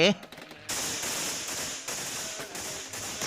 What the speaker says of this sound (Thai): มีเสียงปืนกลเล็กดังขึ้นอย่างสนั่นวันไหว